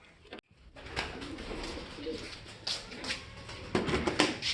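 Pigeons coo softly and repeatedly nearby, low rounded calls over faint rustling and background noise.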